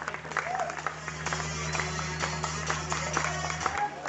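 Seminar audience in Mumbai giving enthusiastic applause, dense clapping from many hands over a low steady hum, fairly loud and continuous for a few seconds.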